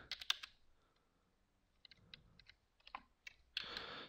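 Computer keyboard being typed on while entering code, in scattered short bursts of clicks with pauses between them, quiet and close with no voice over it.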